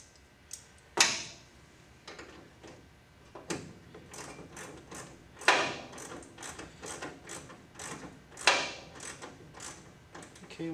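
Lower radiator hose clamp being loosened on a car, giving a run of small metallic clicks and ratcheting ticks with a few sharper louder snaps, close by and with no talk over it.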